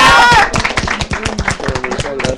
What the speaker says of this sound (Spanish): Quiero pedirle un aplauso para el profesor Varela.